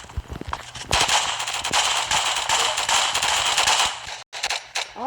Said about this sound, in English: Oh, it's an automatic shotgun.